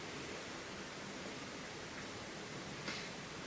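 Faint, steady hiss of white noise in a quiet room during a night-time paranormal investigation, even and continuous with a small click near the end and no voices.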